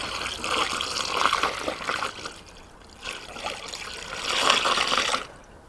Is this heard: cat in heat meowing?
no